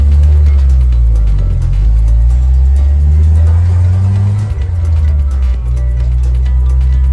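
A 1991 Jeep Wrangler YJ engine accelerates steadily in first gear, its low drone rising and falling in pitch as it pulls away, loud and close throughout.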